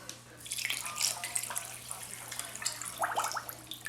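Four cups of water are poured into a pot with sugar and a cinnamon stick for a Greek semolina halva syrup, a close, splashing trickle that rises and falls over a few seconds with no talking.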